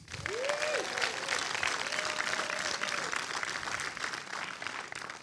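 A film festival closing ceremony audience applauds steadily throughout, dense clapping at even loudness, with a brief whistle or cheer near the start.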